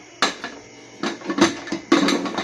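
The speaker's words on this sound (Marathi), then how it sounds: "झाकण लावते" A metal lid is fitted onto a pressure cooker holding vegetables and water, giving three sharp clanks and scrapes at close range with short pauses between them.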